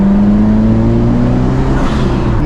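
Big turbocharged Mitsubishi Eclipse engine pulling under acceleration from inside the car, a loud steady drone with a rising harmonic whine that holds throughout, no talking over it.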